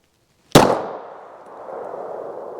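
A single sharp 9mm pistol shot from a P80 with a 4.25-inch barrel firing a Berry's hybrid hollow point, a loud crack with a ringing decay trailing off into faint noise.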